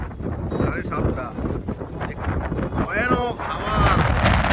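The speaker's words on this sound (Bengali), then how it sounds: "ভয়ানক হাওয়া" A strong evening storm wind of 60 to 80 km/h sweeps through dense forest in Vrindavan, roaring and buffeting the microphone in gusts while people talk over it.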